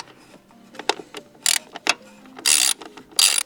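A ratchet loosening a 10mm bolt on the intake of a BMW F10 535i, close and loud, with several short clicking bursts and brief pauses between them.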